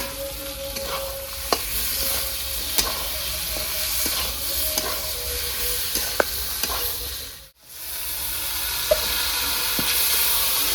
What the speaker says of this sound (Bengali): গ্রেভি আমার ভালো করে ভেজে নিয়েছি, এবার দিয়ে দেবো আমি 3-4টে মিডিয়াম সাইজে টমাটো।